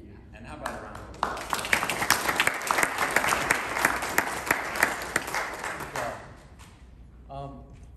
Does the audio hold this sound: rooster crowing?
no